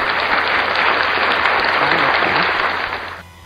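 Brief, loud burst of applause from a classroom of students during a computer lesson, dense clapping that holds steady, then cuts off abruptly.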